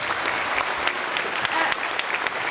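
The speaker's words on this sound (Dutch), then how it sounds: "je toch met een groot applaus hier van het podium verdwijnt" Audience applause at a cabaret show, a steady wash of many hands clapping at close range, continuous throughout with no clear talk over it.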